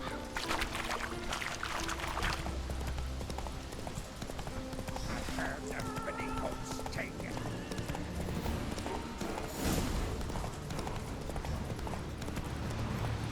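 Roach, a horse in The Witcher 3, gallops with steady rapid clip-clop hoofbeats across open terrain, a neigh rising partway through, with game ambience and someone talking over it.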